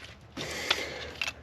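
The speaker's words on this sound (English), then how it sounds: "So unplug all the connectors for the injectors." Fuel injector connectors on a Ford Fox Body engine are worked loose, with a low mechanical rattle and two sharp plastic clicks close by as the plugs release, and no speech.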